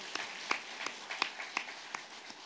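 A church congregation claps during a Sunday worship service, a faint, sparse patter of hand claps with sharp individual peaks scattered unevenly rather than a full, dense ovation, heard from a distance.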